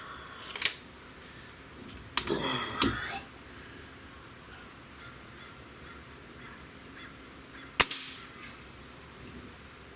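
A Stoeger AT30 air rifle fires sharp, close cracks outdoors, one early, a cluster of snaps midway and a single crisp report later, with quiet ambient hiss between shots.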